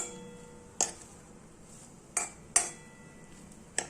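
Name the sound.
coconut being roasted and stirred in a pan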